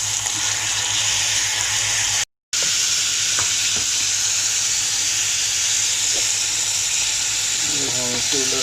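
Chicken liver fries on a tawa over high heat with a constant loud sizzle and hiss. A brief dropout breaks it, and a few clinks and stirring scrapes follow near the end.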